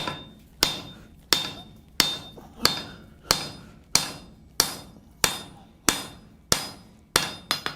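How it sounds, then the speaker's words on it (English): Hot steel hammered square into a corner on an anvil while making a bowl stake: about a dozen sharp, ringing metallic blows at a steady, even pace, each decaying quickly, close and loud with no talk. "So now we're going to lay this on the anvil here, and we're just going to start driving this material square into the corner."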